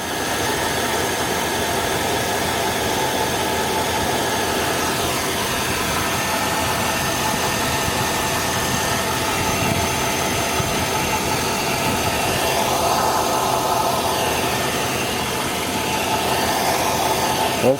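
A Chevy Avalanche engine idles steadily and close by after a second alternator and new battery are fitted, a continuous even hum with a faint whine running unbroken throughout.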